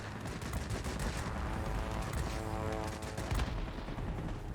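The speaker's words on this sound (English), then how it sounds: "Guns have overheated." The guns of an La-11 fighter fire in the combat flight game World of Warplanes, with rapid continuous bursts of automatic gunfire. The firing is steady and fairly faint and runs for several seconds amid engine noise.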